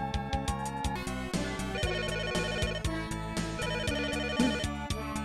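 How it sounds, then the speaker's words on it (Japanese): A telephone rings repeatedly in the Ultraman-themed Japanese video game Hero Senki: Project Olympus, the ringtone chiming over steady game music with a rhythmic beat. "電話が鳴ってます。"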